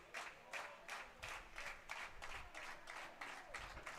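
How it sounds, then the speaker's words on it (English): Hays Larks fans clapping in the stands at a baseball game, a steady, fairly faint applause that swells and pulses in bursts across the crowd, with no talk over it. "Here's the pitch as the Larks fans are clapping"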